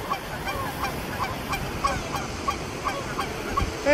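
Geese honk in a steady series of short, fairly faint calls over outdoor background noise, evenly spaced at a brisk pace.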